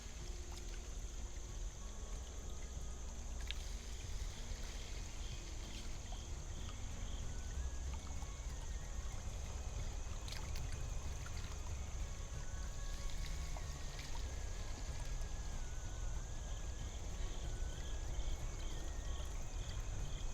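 Water rushes steadily through a gold-prospecting sluice box set among sticky clay and bedrock, a continuous even wash with a faint high whine and no talking.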